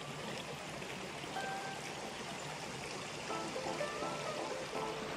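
A stream in a Currumbin Valley national park riverbed runs steadily over rocks, a continuous broadband rush and trickle at even loudness throughout, with no talk.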